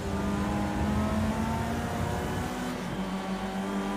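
Open-wheel single-seater racing cars roar in a video game race, with a loud, continuous engine drone that rises and shifts in pitch as cars accelerate and ease off, heard without talk.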